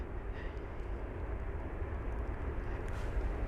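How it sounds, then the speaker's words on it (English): A United Boeing 787-9 Dreamliner pushes back at London Heathrow, giving off a steady low engine rumble and hum at a distance, fairly quiet and even throughout. "Got a United 787-9 Dreamliner pushing back in front of me."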